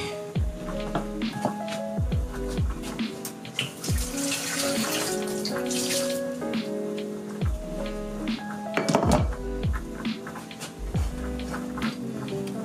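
Tap water runs steadily into a kitchen sink as a pan is rinsed, with repeated hollow thunks and clatters of the pan against the basin.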